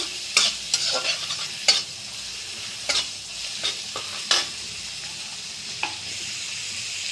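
Stuffed pointed gourds fry in mustard oil in a pan, giving a soft steady sizzle broken by sharp clacks from a spatula stirring and turning them, heard up close without speech.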